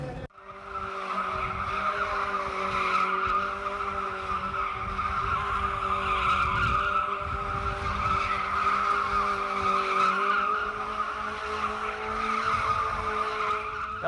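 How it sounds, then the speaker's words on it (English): A stunt motorbike ridden with no front forks and no front wheel at a motorbike stunt circus gives a steady, droning engine note that holds fairly loud and unbroken for about thirteen seconds, with no talking. "what you can probably just about hear is Kevin on the bike with no front forks and no front wheel"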